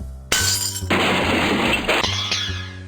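Glass shatters loudly in the video game Edna & Harvey: The Breakout, a sharp crash followed by a long bright spray of breaking shards and tinkling debris over steady low game music.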